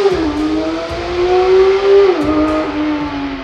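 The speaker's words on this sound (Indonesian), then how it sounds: "Ketika perpindahan mode berkendara, maka suara yang dihasilkan oleh mobil ini pun berbeda-beda." A Porsche 992 GT3 engine revs loudly and steadily, its pitch climbing gradually and then dropping sharply for a quick shift before rising again, with no voices over it.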